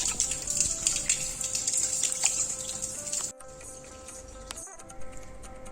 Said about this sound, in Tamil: இப்போ இந்த அரிசியும் பருப்பையும் ஒரு 3 டைம் நல்லா களைஞ்சிட்டு அப்படியே நான் தண்ணி ஊற்றி ஃபஸ்ட்டு ஊற வச்சிடுறேன்.